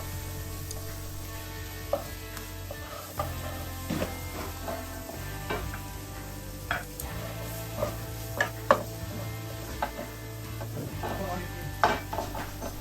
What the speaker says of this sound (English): After that, juice of half a lemon. Mix them together for a few minutes.